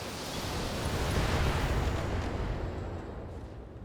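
Mech alpha strike weapons fire in the BattleTech video game: a dense, sustained rumbling barrage of explosive blasts that swells and slowly fades, loud and continuous with no voices.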